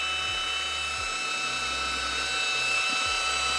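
Drill spinning a cage paddle through smoothing compound for subfloor preparation, a steady high whine with low sloshing churn underneath, close and moderately loud.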